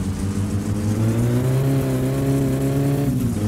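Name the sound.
car engine revving, from a video game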